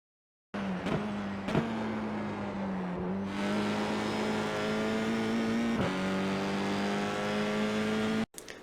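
A race car engine on Sonoma Raceway in the iRacing sim drones loud and steady, its pitch dipping and climbing through gear and throttle changes, before cutting off abruptly near the end.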